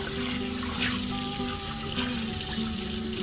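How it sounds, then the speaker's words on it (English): Tap water runs steadily into a sink as a cast iron skillet is rinsed under it, a loud close rushing splash that holds throughout with no voices. "So let's rinse it out."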